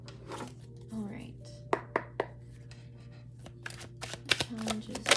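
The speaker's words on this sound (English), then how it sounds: "This deck's kind of tough to shuffle, as you can see." A tarot card deck riffled and shuffled by hand in short, uneven bursts, with crisp flutters and taps, close to the microphone, under a low background hum.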